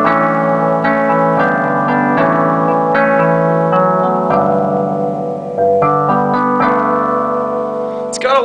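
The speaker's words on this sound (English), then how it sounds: "Also got a really cool electronic piano or electric piano." Electric piano voice on a Carlo Robelli New York piano synthesizer keyboard plays a sustained run of chords and notes, bright and steady throughout with a shimmering effect on the tone.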